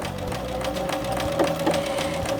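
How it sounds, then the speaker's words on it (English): A sewing machine stitching a blind hem into folded fabric runs steadily with a fast mechanical whir and rhythmic needle clatter, close and continuous. "on my machine, and this stitch is going to take one stitch or one bite into my fabric, into the fold"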